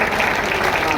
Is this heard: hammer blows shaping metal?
no